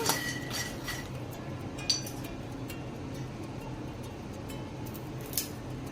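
Makhana (fox nuts) roasting in a kadai are stirred without pause, giving a steady dry rustle broken by light metallic clinks and scrapes of the spoon against the pan.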